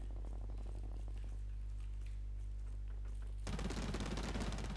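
Combat rifle fire in the shooter Blacklight Retribution: after a steady low droning hum, a loud rapid automatic burst erupts and keeps rattling to the end.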